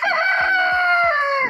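A rooster on a farm gives one loud, near crow, a drawn-out cock-a-doodle-doo lasting under two seconds with faint low thumps beneath it.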